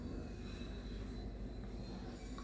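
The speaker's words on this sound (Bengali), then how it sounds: "সেই জন্য অনর্গল এখান দিয়ে হেলিকপ্টার যায়, নিশ্চয়ই আপনারা আওয়াজ পাচ্ছেন।" A helicopter flies over a residential area near an army zone. Its steady, low droning rumble holds evenly throughout, fairly distant and unbroken, with no voices.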